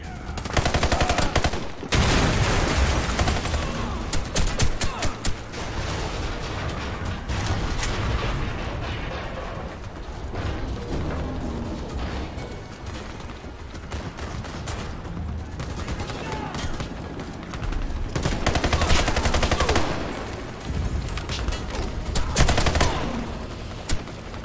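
Gunfire and blasts in the video game Warface, with a pistol used to clear an area, dense crackling bursts with loud peaks over a steady rumble for the full stretch.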